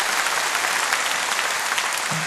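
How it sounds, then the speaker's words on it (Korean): A congregation at a deaf mission conference breaks into steady, dense applause, many hands clapping together in a continuous roar with no pauses, loud and close throughout. "Before we pray, let's give a round of applause for the missionaries who will save the deaf community."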